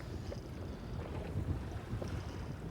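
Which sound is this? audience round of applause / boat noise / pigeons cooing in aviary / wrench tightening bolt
boat noise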